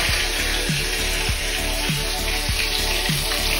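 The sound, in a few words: onions sizzling as added to hot pan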